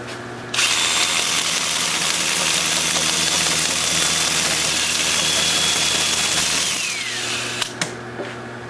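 A wood lathe spins with a steady high whir as sandpaper rubs on the turning piece, starting abruptly, holding steady, then winding down and stopping near the end.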